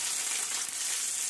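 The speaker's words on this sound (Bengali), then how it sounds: "এবার গোটা গরম মশলা আর বাকি সবজিগুলো সব ভেজে নেব ভালো করে" Beans and whole spices fry in oil in a wok, giving a soft, even, hissing sizzle that lasts the whole brief moment with no voices.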